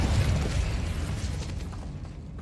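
Incendio fire spell cast in Hogwarts Legacy, a loud roaring burst of flame that swells at once, then rumbles and fades steadily over about two seconds, with no talking.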